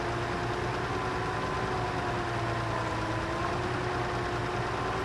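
The truck's engine in the video game Repair Works runs at a steady idle, a constant low rumble with a thin whine layered on top, moderately loud, with no talking.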